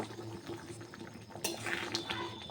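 Peas simmer in a pan, a faint bubbling and light clinking of utensils against the cookware, steady and quiet throughout.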